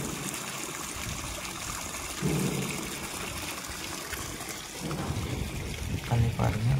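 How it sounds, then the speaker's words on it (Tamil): Water gushing from a borewell submersible motor pump lowered about 500 feet, a steady rushing flow heard close, with people talking over it. "தண்ணி நல்லா ஃப்ளோ."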